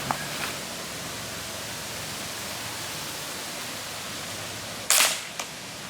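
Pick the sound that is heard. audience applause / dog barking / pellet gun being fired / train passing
pellet gun being fired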